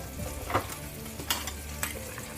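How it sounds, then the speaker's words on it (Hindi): Turmeric and coriander powder roasting in a pan for a carrot and pea sabzi, a soft, steady sizzle with a few brief scraping stirs, fairly quiet and close. "इसे मसालों को 1 सेकंड के लिए भून लेंगे हम"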